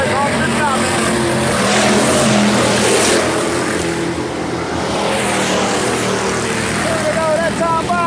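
IMCA hobby stock race cars roar around the Salina Speedway dirt track, a loud continuous engine drone with revving swells, heard over an announcer calling the race.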